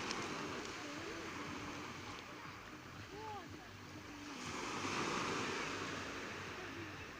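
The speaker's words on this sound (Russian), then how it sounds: "Тут большие волны" Large sea waves in the evening make a steady, wind-blown wash of surf that swells louder toward the end, with faint distant voices in the background.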